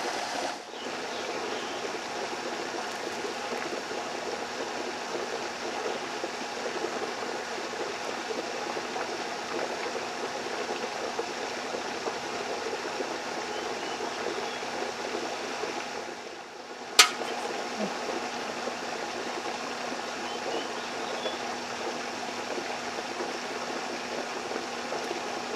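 An HHO generator housed in a computer case runs at about 24 amps with cold air blowing over it, giving a steady bubbling, fizzing hiss with a faint hum, unbroken except for one sharp click near the end.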